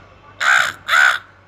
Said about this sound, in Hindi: अबे कौवा काव काव कर रहा है